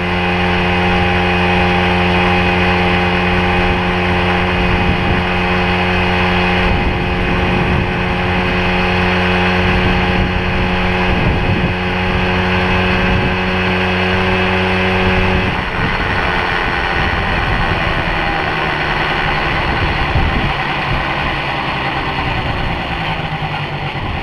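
A 1978 Yamaha Chappy LB50 moped engine buzzes loud and close throughout a test ride, holding a steady droning pitch with fluctuations as the throttle changes.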